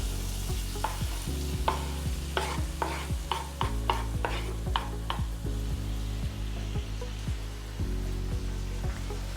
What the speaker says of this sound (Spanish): Incorporamos el tomate en concassé.